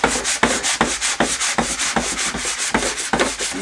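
Sanding block rubbed back and forth by hand on a Bush VHF 41 radio during restoration, a steady run of rasping strokes at an even rhythm, close and fairly loud with no talking.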